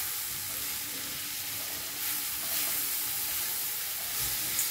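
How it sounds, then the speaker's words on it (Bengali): Soaked chickpeas with spices stir-fried over a medium to high flame, a steady close sizzle with faint stirring scrapes, even and continuous with no talking. "বেশ অনেকক্ষণ ধরে এটা নাড়াচাড়া করে বেশ ভাজা ভাজা মতো করে নিয়েছি।"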